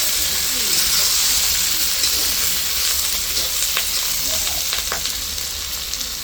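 Loud, steady frying sizzles in a pan as turmeric, chili powder and salt go in over well-browned ingredients for a Bengali curry, a continuous close hiss with faint stirring clicks and occasional speech.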